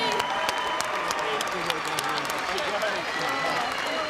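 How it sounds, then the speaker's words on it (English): Arena crowd applauding the teams at a CrossFit regional team competition, continuous clapping and some cheering with an announcer's voice over the top. "Keep your applause going, ladies and gentlemen, once again for all the teams on the arena."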